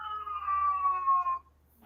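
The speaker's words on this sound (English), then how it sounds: "That's my cat." A single drawn-out cat meow, clear and close, lasting over a second before trailing off into quiet.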